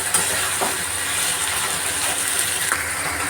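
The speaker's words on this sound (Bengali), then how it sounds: "এভাবে ভালো করে নাড়াচাড়া করে নেবো" Aloo posto, potatoes with poppy seeds, being stirred in a pan at home, giving a steady sizzling hiss with a few soft scraping strokes across the short stretch, no talking.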